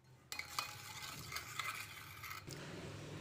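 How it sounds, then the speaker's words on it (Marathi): Sugar being stirred into a banana pancake batter in a bowl, a steady scraping and swishing that runs for about three seconds, close and alone with no talk. "आता ही साखर यामध्ये छान प्रकारे मिक्स झालेली आहे"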